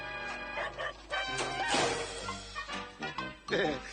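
A whippet barks and yips a few times in a 1980s beer advert, short sharp calls mixed with music and sound effects, moderately loud.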